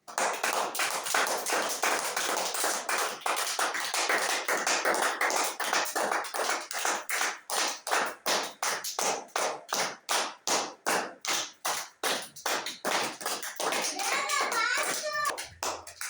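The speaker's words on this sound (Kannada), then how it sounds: "ಚಪ್ಪಳೆ ತಟ್ರಿ" A group of people clapping hands in rapid, irregular bursts of sharp claps that go on steadily, close and loud, with a voice briefly audible near the end.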